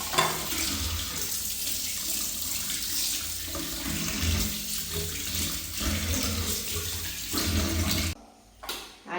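Hilsa fish is washed under a running kitchen tap, giving a steady, close rush of splashing water that stops abruptly near the end.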